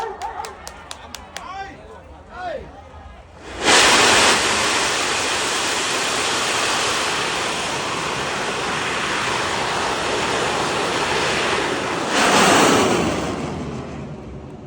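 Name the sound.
bang fai rocket launch roar at Thai rocket festival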